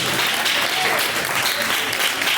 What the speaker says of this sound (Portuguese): Palmas bem forte para o Senhor.